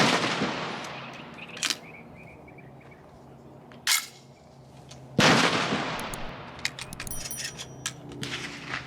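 Garaysar Fear 114 12 gauge semi-auto shotgun fired outdoors, two loud sharp blasts several seconds apart, each with a broadband crack and a decaying outdoor echo, plus lighter clicks and handling noises between.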